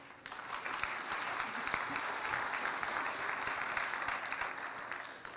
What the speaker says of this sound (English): let's give me a warm round of applause for Emma Zaballos and Anne